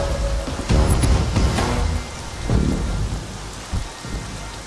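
Heavy rain pours steadily on surfaces while rolls of thunder rumble through it, loud and close, with a couple of deeper booms, no voices.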